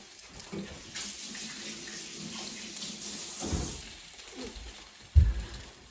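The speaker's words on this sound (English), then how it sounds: "I'm gonna wash my hands again" Tap water runs steadily as hands are washed at a kitchen sink during French toast stick cooking, a soft continuous hiss with splashing shifts and a brief clunk near the end.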